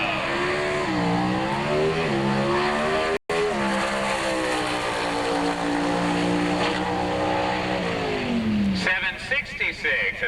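A Pro Stock drag car making a full run at the 1986 NHRA Spring Nationals in Columbus, Ohio, its loud engine howl rising in pitch through several gear changes before fading down the track.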